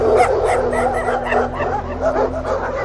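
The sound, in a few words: dogs barking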